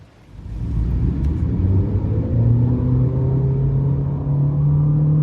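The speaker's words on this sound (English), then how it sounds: "Listen to that engine noise." A 2023 Honda HR-V's 158-horsepower engine with a CVT revs up smoothly, its low drone rising steadily in pitch as the car accelerates, loud and close with no talking.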